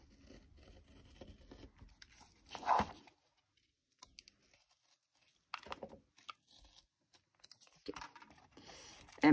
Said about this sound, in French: on va juste venir couper au cutter cette croix-là